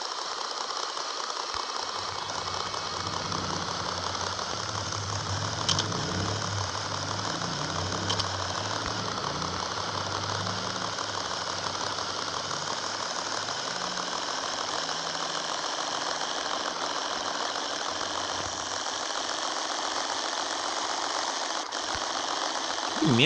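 Motorcycle engine in the video game Rules of Survival, a steady mid-pitched running drone that holds throughout with little change, loud and continuous with no talk over it.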